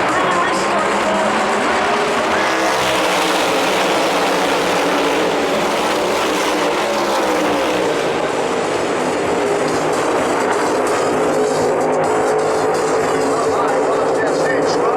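Race cars at a NASCAR event in Atlanta roar through the restart zone, a dense, continuous engine drone with shifting pitch and crowd wash, with commentary voices running over it throughout.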